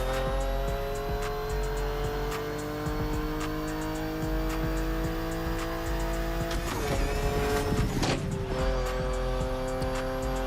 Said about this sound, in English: It's the rally raid car.